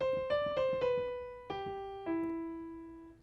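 Solo piano plays the trickier fourth right-hand fragment of a piece in an easy arrangement: a steady run of six distinct notes stepping downward, each ringing into the next, with the last two held longer and fading.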